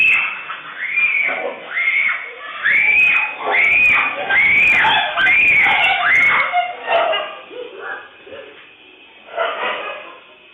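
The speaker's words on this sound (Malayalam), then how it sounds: "പെൺകുട്ടി നായകളുടെ കടിയേൽക്കാതെ നിലവിളിച്ച് ഓടി രക്ഷപ്പെട്ടത് ഭാഗ്യത്തിനാണ്" A girl screams repeatedly while fleeing stray dogs in Thennala, Tirurangadi. The cries come loud and close in a rapid string of shrill wails over the first seven seconds, then give way to fainter, rougher vocal sounds.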